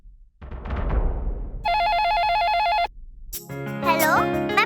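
A telephone rings during a call: an electronic warbling ring tone holds steady for about a second amid indoor noise, followed by a higher musical ringtone melody, with background voices and sounds around it.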